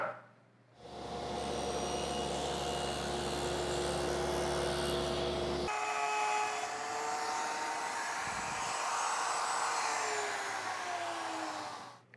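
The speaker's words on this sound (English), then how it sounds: "then we'll head over to the router and put our dovetail in" A router cuts a dovetail groove in a board for a table saw crosscut sled, giving a loud, steady high whine that shifts pitch midway as the bit bites into the wood, then winds down.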